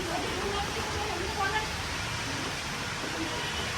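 Heavy, steady rain pours down in Pokhara, a dense continuous hiss filling the whole moment with no breaks, while faint voices murmur underneath.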